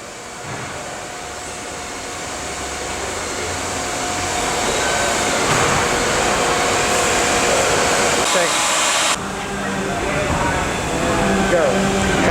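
Buffer polishing a car's clear coat after sanding in a collision repair shop, a loud continuous whirring drone that slowly swells, with a brief dip partway through and faint talk beneath.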